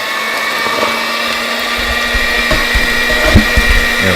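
An electric mixer whirs loudly and steadily as it mixes sugar and other ingredients for a tater pie, one continuous motor drone with slight shifts in pitch and no talk.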